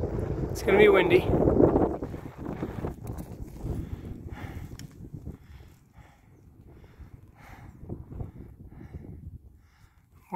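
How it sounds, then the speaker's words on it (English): Wind buffets the microphone with a heavy low rumble, strongest at the start and easing later, while someone talks. "Okay, it's gonna be windy."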